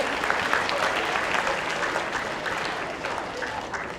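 Audience applause fills the room, a dense, steady burst of clapping that holds close and loud for several seconds before easing slightly, with no voices over it.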